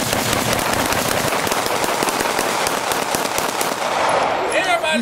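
Glock pistol gunshots at a shooting outing, fired close by as loud, rapid cracks packed densely with no breaks, the blasts overlapping one another.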